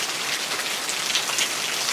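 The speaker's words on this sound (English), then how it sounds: "It looks like the rain from tropical storm has arrived." Steady rain from a tropical storm falls in a dense, even hiss of countless drops on surfaces, with no voices.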